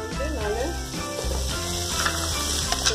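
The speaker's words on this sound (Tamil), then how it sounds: "மிக்சர் வெஜிடபிள் கொஞ்சம் கேப்சிகம் போட்டுட்டேன். எல்லாத்தையும் போட்டு வதக்கிடுங்க." Mixed vegetables and capsicum sauté in a pan with a continuous close sizzle, heard beneath a tonal, harmonic background layer throughout.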